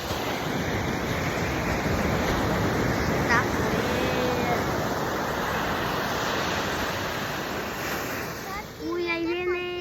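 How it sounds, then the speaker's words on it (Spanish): Strong sea waves surge and break on a beach, a loud continuous roar of surf with wind buffeting the microphone throughout, and a brief voice near the end. "El mar, por lo que les digo, está fuertecito."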